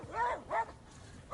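Dogs bark and yip in a few sharp bursts while chasing off a bear in a cold northern setting, heard at moderate distance with a pause between outbursts.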